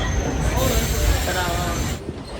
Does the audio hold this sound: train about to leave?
yes